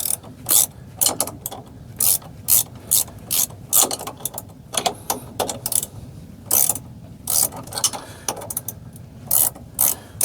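A speed wrench ratchets on a shock absorber bolt of a Brunswick GSX bowling pinsetter, working through thread lock. The pawl gives rapid bursts of clicking, repeated in short regular strokes, close and loud, with no talk.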